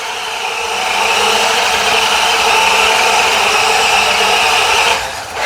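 A WPL Suzuki Carry RC kei truck on solid plastic tyres runs at stage 2 throttle, giving a loud, steady electric motor whine that holds level for several seconds, then eases off near the end.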